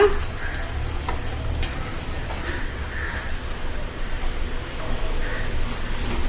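Red ponnanganni greens sizzle steadily in a pan, a continuous soft hissing fry with faint stirring scrapes and no voices.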